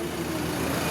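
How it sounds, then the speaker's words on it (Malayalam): A JCB excavator's engine runs at a work site at Tiruvannamalai during Girivalam, giving a brief, steady, loud droning hum with no voices over it. "ഇവിടെ JCB വന്നിട്ടുണ്ട്."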